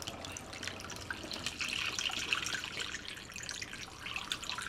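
Water sloshes and trickles as it is stirred in a jug topped up with water, a continuous close splashing wash with bright drips and no talk.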